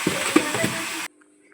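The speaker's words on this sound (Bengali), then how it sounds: "পেঁয়াজটা ভাজা হয়ে গেলে তো এদিকে আমি মাংসটা দিয়ে দিচ্ছি" Meat is added to onions frying in hot oil in a wok for biryani, giving a brief burst of sizzling and stirring for about a second before it cuts off into near silence.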